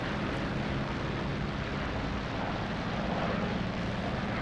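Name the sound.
aircraft engine of plane overhead in Graviteam Tactics video game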